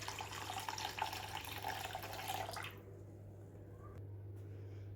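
Warm water pours steadily into a glass for about two and a half seconds, a close, bright splashing stream that stops abruptly, leaving a quiet room hum and one faint click.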